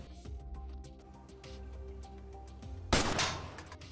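A single sharp gunshot cracks out during shooting practice in a drama, loud and sudden, with a short decaying tail over quiet background music.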